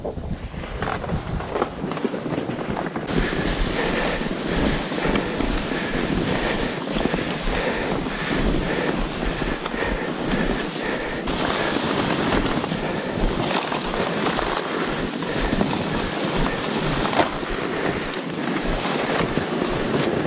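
Cold winter wind roars steadily in the snowy backcountry, buffeting the microphone in a loud, constant rush with no letup and no voices.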